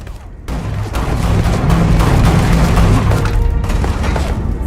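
Gunfire in the Starfield video game, a loud sustained barrage of booming shots and impacts filling nearly the whole stretch after a brief quieter start.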